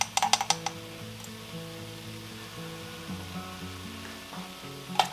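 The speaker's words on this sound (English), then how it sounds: "So now I'm going to add in a half a teaspoon of red pepper flakes." Red pepper flakes hit a soup pot for creamy parsnip soup, giving a steady soft sizzle after a quick burst of clinks at the start and one more near the end.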